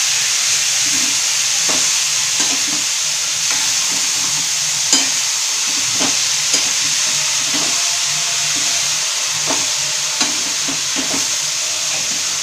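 Dried fish (sukat) roasts in a pan as it is stirred, making a steady dry sizzle and hiss broken by regular scraping strokes, close and loud with no talk.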